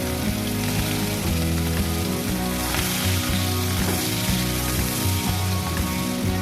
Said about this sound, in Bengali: পেঁয়াজগুলো আমি একটু লাল লাল করে ভেজে নেব।